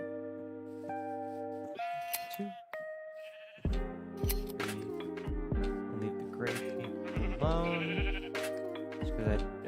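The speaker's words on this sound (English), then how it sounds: "The sheep should be up here." Sheep bleat repeatedly in the Minecraft FTB Plexiglass Mountain modpack, several short wavering cries in quick succession over a steady tonal game background, fairly close and clear, with no talk.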